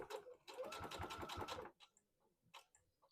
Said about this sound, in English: I'm going to stop right about here.